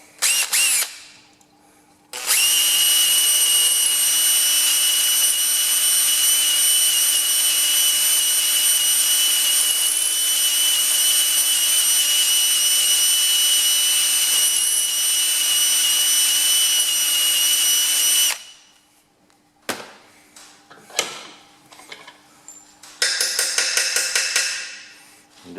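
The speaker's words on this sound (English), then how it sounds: "So we can drop a little 1/8 drill down there." Power drill with a 1/8 drill bit boring into a tacho cable: a steady, loud high whine runs for about sixteen seconds, then stops, followed by scattered clicks and a short second burst of drilling.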